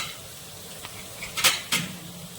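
Spice powders such as cumin and turmeric hitting hot oil with fried onions in a wok for mutton kosha, giving a soft steady sizzle with a couple of brief louder scraping bursts from stirring.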